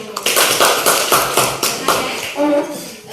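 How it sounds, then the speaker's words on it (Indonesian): Students in a classroom discussion lesson applaud a group, dense bursts of clapping that swell and ease in waves, close by, with a voice speaking briefly near the end. "Tepuk tangan buat kelompok 1."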